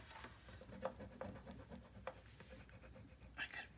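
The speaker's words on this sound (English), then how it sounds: "Okay, now I can really burnish." Paper corners of a 9 x 9 mini album being burnished, a faint close rubbing and scraping with a few soft taps, quiet throughout.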